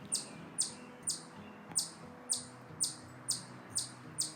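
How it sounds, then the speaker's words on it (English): A small bird chirps in the background during a miniature-painting session, short bright tweets repeating at a steady, even pace about twice a second, distant and faint with no talk over it. "You can hear the silly bird."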